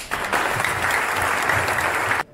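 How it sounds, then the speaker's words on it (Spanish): Sustained audience applause at a business gathering in Arandas, Jalisco, a steady dense roar of clapping that fills the room for about two seconds and then cuts off abruptly. "le mandemos el más grande de los aplausos"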